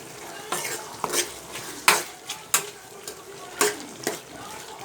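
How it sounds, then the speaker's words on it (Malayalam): A spoon stirs a snake gourd, tomato and lentil curry in a pot. Several distinct scraping and clinking strokes, unevenly spaced, sit over a faint simmering sizzle. "ഞാനൊന്ന് ഇളക്കട്ടെ കേട്ടോ."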